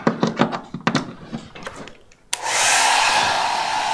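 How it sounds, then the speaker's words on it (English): A hair dryer powered by a BLUETTI power station starts after a few handling knocks and clicks, then blows with a loud, steady whooshing roar until the end. "So let's try this hair dryer again."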